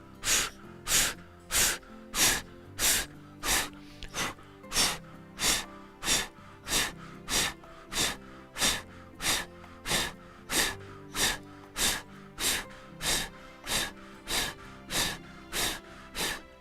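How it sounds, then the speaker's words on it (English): Breath of fire yoga breathing done from an elbow plank: rapid, forceful nasal exhales repeat in a steady rhythm of about two per second for over fifteen seconds, close and loud, with no talking. "let's do breath of fire"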